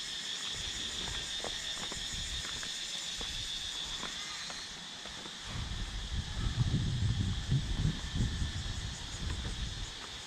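Cicadas buzz in a steady high drone at a beach in Thailand, a dense insect hum that carries throughout, with a louder rustling, wind-like rumble swelling in over the second half.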